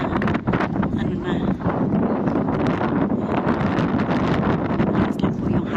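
Wind buffets a handheld cellphone microphone outdoors among a crowd, a steady loud rumbling roar that runs without break through the whole stretch.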